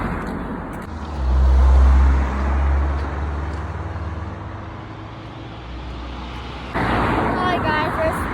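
Cars and trucks rush past on a road beside fields, one loud vehicle swelling up close then fading, with steady traffic rumble continuing and another passing near the end, heard from someone walking along the roadside.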